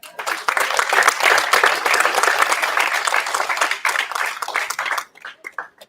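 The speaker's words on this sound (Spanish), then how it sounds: "Den un aplauso" Congregation applauding in church after a time of worship, dense lively clapping from many hands that holds strong for about five seconds, then thins to a few scattered claps.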